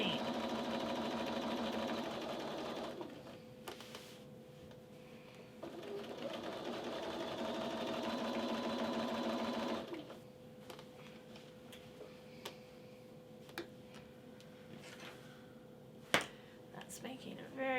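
A sewing machine quilting a quarter-inch seam with a small back tack runs in two steady motor bursts, then drops to quieter ticking and light clicks, heard up close.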